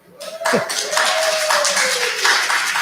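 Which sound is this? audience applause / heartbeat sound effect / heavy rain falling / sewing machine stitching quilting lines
audience applause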